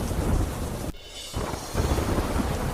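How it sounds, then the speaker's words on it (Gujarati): Torrential rain with thunder in Dwarka's Kalyanpur area, a loud rushing hiss over heavy low rumbles that briefly drops away mid-stretch and then comes back at full strength. "દ્વારકાના કલ્યાણપુર તાલુકામાં ભારે વરસાદ."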